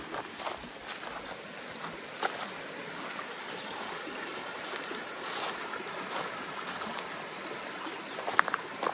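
A creek flows steadily beside a primitive campsite along a forest trail, a constant close-by rushing and trickling wash with faint scattered knocks and no voices.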